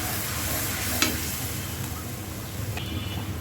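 Salt and turmeric being stirred into hot oil in a pan for a Bengali fish-head muri ghonto: a soft continuous sizzle with a few scraping stir strokes and a light clink, no talking.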